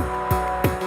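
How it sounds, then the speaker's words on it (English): Two short offbeat reggae-style chord stabs from a Qubit chord module on a Eurorack setup cut through a dense, sustained synth bed, close and punchy. "the offbeat reggae style chord stab that I'm adding using the qubit chord module"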